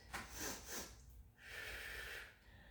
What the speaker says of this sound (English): 2 sniffing breaths